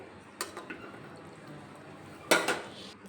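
A spoon clanks against a pan as egg and cauliflower curry is stirred, with two distinct metallic knocks separated by quiet scraping and faint simmering, no voices.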